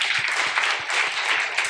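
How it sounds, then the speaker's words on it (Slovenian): Sustained applause from an audience, steady clapping throughout with no pauses. "Aplavz za Jaka."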